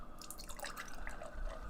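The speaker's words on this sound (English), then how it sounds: "I'm going to see if I can pour this without tilting" Fruited mango, orange and pineapple beer poured into an upright glass, a soft, close trickle with bright bubbly splashes and fizz, faint but continuous.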